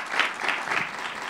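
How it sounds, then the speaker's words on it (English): An audience at an advanced materials innovation science event breaks into a short, lively burst of clapping that swells and fades in a few quick waves. "join me, please, with a big round of applause to our great scientists here today"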